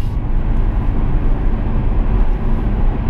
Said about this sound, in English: that was a TDF just went past us